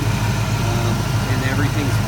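A car engine idling steadily with a low, even hum and no hesitation, close by and constant throughout the short stretch.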